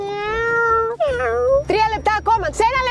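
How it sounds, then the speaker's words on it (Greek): A cat meows several times in quick succession, clear and close, with a voice and other talk around it. "Και μια γατούλα."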